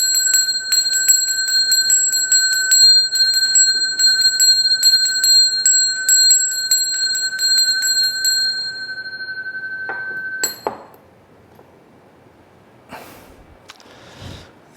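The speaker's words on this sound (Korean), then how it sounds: "메시지를 이 종소리로 대신하겠습니다." Bell struck repeatedly with a bright sustained ring for about eight seconds, then a final sharp strike and fading hum, with faint movement noises afterward.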